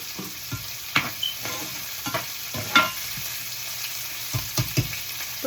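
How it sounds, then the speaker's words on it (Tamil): Onions sautéing in a hot pan before shrimp go in, giving a steady close sizzle with occasional stirring scrapes and clinks over it. "இப்போ வெங்காயம் வதங்கட்டும்."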